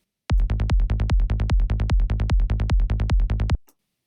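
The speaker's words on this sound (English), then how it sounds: "we'd have a saw wave and an envelope controlling the filter" Saw wave synth bass in Ableton, a filter envelope shaping each note, fires a rapid run of punchy plucked notes in a tight psytrance rhythm, each opening bright then closing fast, loud and dry.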